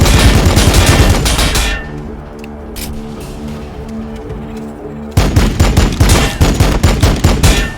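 Heavy automatic gunfire in the Warhammer 40k: Battlesector strategy game, loud rapid bursts that pause briefly to a lower rumble before a renewed volley of rhythmic shots.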